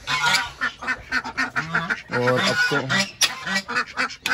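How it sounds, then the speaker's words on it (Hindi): Loud, harsh honking quacks from several ducks overlap in bursts, close by, while someone speaks briefly over them. "ये बहुत ज़्यादा आवाज़ करती है बड़ी वाली बत्तख है।"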